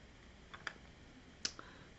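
Quiet, crisp computer mouse clicks while working in Canva, a couple of light clicks followed by a pair of slightly louder ones, close to the microphone in a still room.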